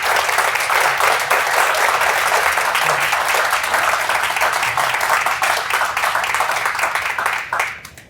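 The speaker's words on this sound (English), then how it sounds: "can we please give a round of applause to this man?" Audience applause at a talk on corporate diversity and equity, a full sustained roar of many hands clapping that holds steady before tapering off sharply at the very end.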